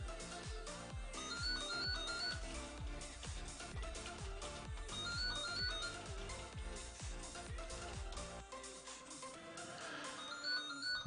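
A landline telephone rings with a repeating electronic melody over steady background music, continuous for several seconds without a break.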